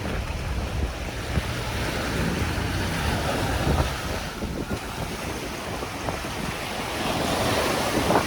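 Strong wind and crashing surf along the Manila Bay shore by the gray sand, a steady loud roar of waves with gusty wind buffeting the microphone throughout.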